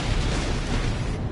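Fireworks in the Sonic X Shadow Generations video game, a continuous dense rumble of bursts and booms, loud and unbroken throughout.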